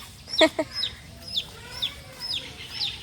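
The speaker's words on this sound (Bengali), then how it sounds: "এই যে একটা মুরগির বাচ্চা" A small chick peeps in short, high-pitched chirps, with a couple of louder clucks at first, over a low background hum, in a village home yard in Bogura.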